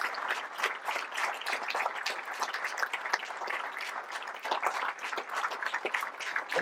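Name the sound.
applause honouring firefighters and gendarmes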